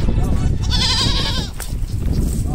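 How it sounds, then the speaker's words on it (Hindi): A goat bleats outdoors near a fort, a wavering cry rising midway through the clip over steady background noise and wind. "आप सब लोग देख सकते हो वहाँ पे एक बकरी बेचारी किसी को बुला रही है"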